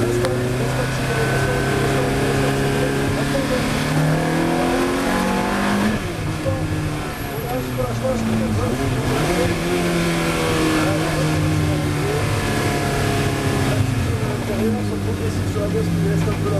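A Ferrari F430 Challenge race car accelerates hard on track, its engine note rising and dropping through repeated gear changes in a loud, continuous howl, with a driver's voice coaching over the engine from inside the car.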